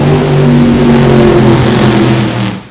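Nitro drag racing car, Donnie Massey's Showtime car, making a run at Mo-Kan Dragway, a very loud, harsh engine roar with a steady pitch that fades away toward the end.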